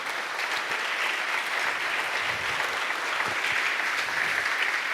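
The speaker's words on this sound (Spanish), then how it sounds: "denle un fuerte aplauso al Señor" A church congregation breaks into loud, sustained applause during a sermon, dense clapping holding steady throughout without a pause.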